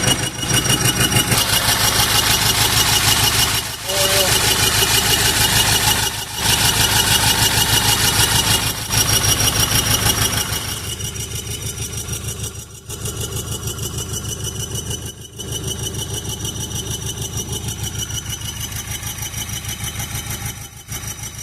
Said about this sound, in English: I think we're still a cylinder down and we're smoking, so I think we may have bent a valve